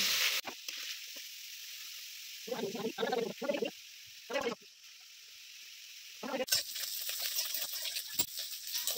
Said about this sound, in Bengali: কড়ায় তেল দিয়ে দিয়েছি, গেঁড়িগুলো ভেজে নিচ্ছি।